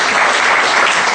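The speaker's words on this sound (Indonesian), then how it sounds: "tepuk tangan buat Tuhan Yesus" Brief burst of dense, loud applause from a church fellowship audience in Jakarta, many hands clapping steadily.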